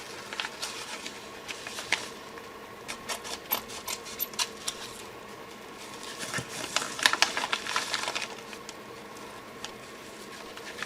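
A small mail package being opened, with crisp crinkling and tearing of plastic or paper wrapping in irregular bursts, close and fairly quiet, busiest toward the end.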